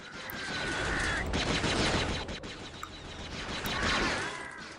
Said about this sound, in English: So now I have to use a blaster.